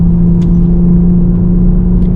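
A 2024 Toyota GR Supra 3.0 Premium's exhaust drones steadily and loudly while accelerating, a constant low engine tone with no voices over it.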